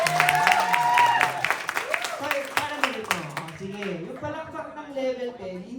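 An audience claps in bursts, loosely rhythmic, while loud voices talk and call out over the clapping, which thins out in the second half.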